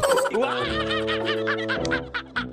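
Loud, busy squawking and gobbling from Minecraft chickens, with rapid repeated calls and a layered tonal hum underneath, close and continuous.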